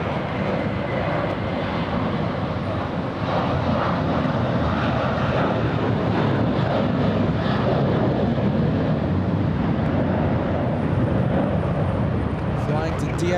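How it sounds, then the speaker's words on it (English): American Airlines flight 1658 to DFW flies out of LAX, its jet engines a loud, continuous roar that strengthens slightly after the first few seconds, with voices seemingly talking over it. "We have American Airlines flying to DFW. We have American 1658."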